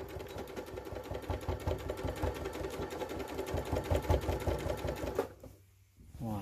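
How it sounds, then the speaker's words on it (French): Sewing machine stitching a tote bag at a steady fast rhythm, close and continuous for about five seconds before stopping abruptly. "On met sous notre pied presseur, on va coudre à 1 cm."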